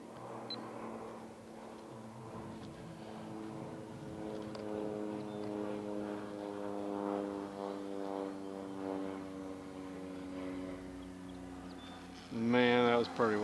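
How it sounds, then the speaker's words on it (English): A propeller airplane drones steadily overhead with a sustained harmonic engine tone that swells slightly as it passes, a louder clunk near the end, with talk nearby. "It's the plane."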